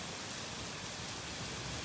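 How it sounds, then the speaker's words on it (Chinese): Heavy rain pours during an outdoor walk on a stormy, typhoon-like weekend, making a dense, steady hiss that fills the short stretch with no voices. "哦，雨超大"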